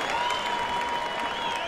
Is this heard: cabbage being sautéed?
no